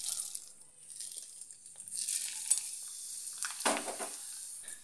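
Sago pearls dropped into hot oil in a frying ladle held in a pan, a faint crackling sizzle that flares up in short bursts, with no voices.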